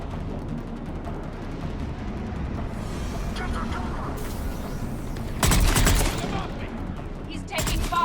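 Gunfire in the video game Mass Effect 3 Legendary Edition, a low rumbling battle bed that swells into a loud, dense burst of shots near the end, with voices calling out over the combat.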